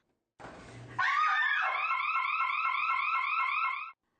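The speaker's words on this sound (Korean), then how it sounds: "무언가에 놀란 여성이 비명을 지르는 순간 사이렌이 요란하게 울립니다." In an empty women's restroom, a woman screams sharply, then a scream-activated safety alarm siren wails in rapid repeating sweeps for several seconds before cutting off.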